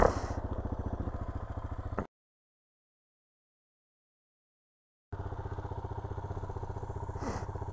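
A motorcycle engine runs on a green lane in Derbyshire's Peak District, a close, steady rhythmic chugging that cuts out to silence for about three seconds before resuming.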